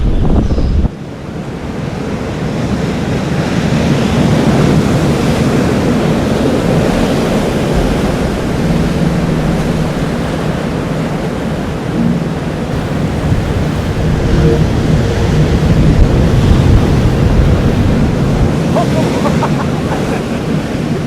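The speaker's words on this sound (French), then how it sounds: "La puissance des éléments, du vent et de la mer là." Strong wind and crashing sea waves on an exposed coast, a continuous loud roar of surf with heavy wind buffeting the microphone throughout, no voices.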